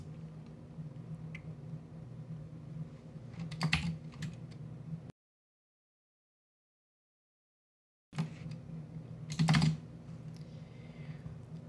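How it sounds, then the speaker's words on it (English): Computer keyboard keys clatter in uneven bursts close to the microphone, with a short stretch of silence midway before the tapping resumes. "sorry about the keyboard, I forgot to mute there"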